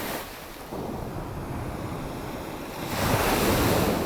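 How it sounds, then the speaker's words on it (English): Surf rolls and crashes steadily on a Yorkshire Coast beach at dawn, a broad wash of water that swells louder near the end, with wind buffeting in the background. "Just the crashing of the waves on the beach."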